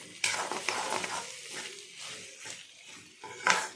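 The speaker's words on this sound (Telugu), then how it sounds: "అది వేసి ఇదిగోండి ఇలా ఒకసారి కలుపుకోండి." A spoon stirs crushed garlic and cumin into ivy gourd curry (dondakaya) in a pan, with soft scraping and gentle sizzling, close up.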